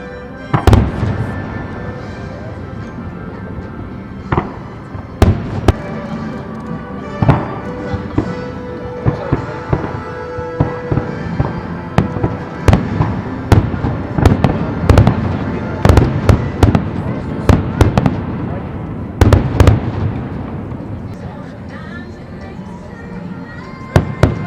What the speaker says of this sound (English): I walked over to the Grand Floridian Boat Dock to watch the fireworks show at the Magic Kingdom